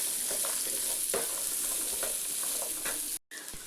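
Chopped onions and seven or eight garlic cloves sautéing in a pan, a continuous soft sizzle broken by a few scraping stirs, close and fairly quiet, ending with a brief cut.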